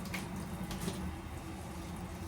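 Water bubbling and churning at a steady boil, close by, with a continuous rushing texture and no talking.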